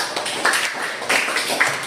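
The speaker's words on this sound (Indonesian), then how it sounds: "Baik, tepuk tangan untuk Jova." Classroom applause for a student named Jova during a lesson, a quick patter of several hands clapping at close range, steady and dense for a couple of seconds with no talk over it.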